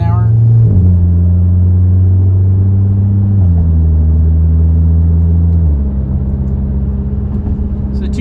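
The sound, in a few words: VW MK7 Golf R with Nameless Performance exhaust driving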